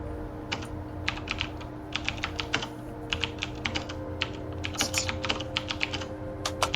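Computer keyboard typing during a tabletop role-playing game session: a steady run of quick, close key clicks in uneven bursts, with brief pauses, over a low background hum and no talking.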